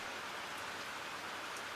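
Steady rain falls as a dense, even hiss with scattered drop patter, continuous and moderately loud throughout with no voices.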